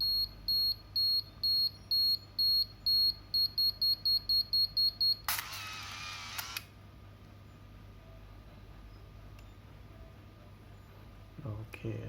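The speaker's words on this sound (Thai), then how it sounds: "มันจะมีเสียงแจ้งเตือน" A Ricoh FF-3D AF Super film camera sounds its warning beep: about a dozen short, evenly spaced high beeps in quick succession, then a brief whirring burst and a quiet room.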